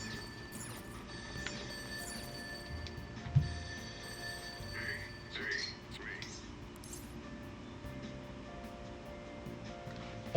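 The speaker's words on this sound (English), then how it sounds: "Oh, the phone's ringing off the hook." A telephone rings in Persona 5 Royal, a steady electronic trill sitting fairly quietly in the background while voices talk and other game sounds come and go.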